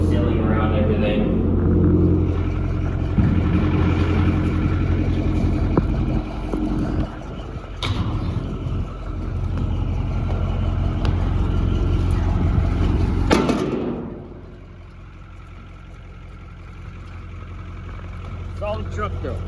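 A Ford F8000 truck with a 636ci V8 engine rumbles at idle with a deep, steady low throb, heard outdoors with wind buffeting the microphone and someone talking over it before the rumble drops off.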